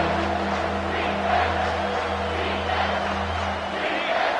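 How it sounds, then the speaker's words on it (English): A stadium crowd at an NCAA football game on third down, a dense sustained roar of cheering and yelling that swells and stays loud throughout, with a commentator's voice running over it. "Third down, and this crowd is tearing the lid off this place."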